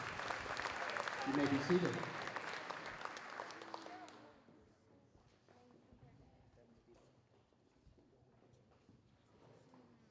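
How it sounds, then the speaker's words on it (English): A crowd at a school athletic awards night applauds the winter coaches, a burst of clapping that swells for a few seconds and then stops, leaving a quiet hall where someone speaks briefly. "Once again, a big round of applause to our winter coaches who are here with us tonight."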